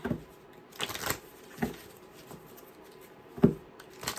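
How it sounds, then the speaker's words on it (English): Cards are shuffled in a few quick, papery bursts, spaced unevenly across a quiet background, with no talking. "gotta shuffle this one more time."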